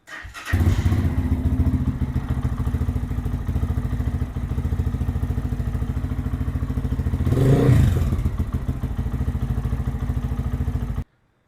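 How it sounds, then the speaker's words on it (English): A 2023 Lifan KPM 200cc dual-sport motorcycle engine starts with a sputtering catch, then idles in a steady loud rumble, briefly revving once before cutting off. "Now I'm gonna go ahead and start it up and let that exhaust pipe start warming up."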